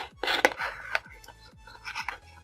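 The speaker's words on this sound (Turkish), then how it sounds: "Şu şekilde oklava yardımıyla bastırarak sıklaşmasını sağlıyoruz." Grape leaves pressed down into a PET plastic bottle with a rolling pin make a close, crinkly crunching and scraping, several short pressing strokes in quick succession with a soft rhythmic knocking underneath.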